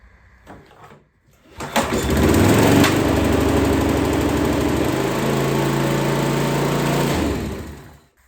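A Hayter Harrier 41 lawnmower engine, just repaired, is pulled into life after a few quiet knocks and runs loud and close with a buzzing drone, shifting pitch midway before cutting off.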